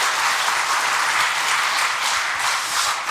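A church congregation claps during a Korean sermon, a continuous wash of applause from the gathered crowd, fairly close and even in level with no talk over it.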